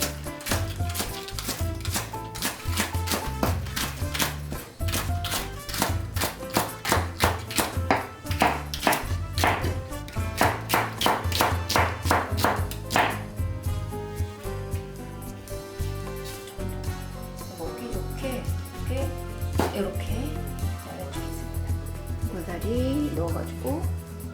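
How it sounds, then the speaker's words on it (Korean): A knife slices green onion (daepa) on a cutting board for spicy Samyang ramen with smoked duck and bracken. Fast, steady taps come close to the mic over dense background music. "대파를 송송 썰어줄게요"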